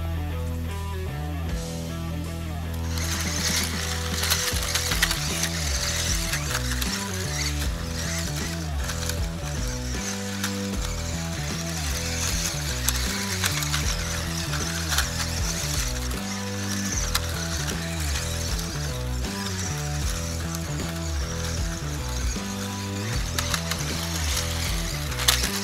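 Modified Tamiya Grasshopper buggies with 380 motors race in the final of an off-road RC club cup, a busy whine of small electric motors rising and falling with rattling, clicking gear noise across the track.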